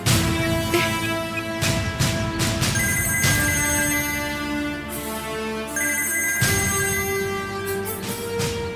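A telephone ringtone plays loud and close in a domestic drama scene, a melodic electronic tune that repeats with shifting notes for several seconds and no talking over it.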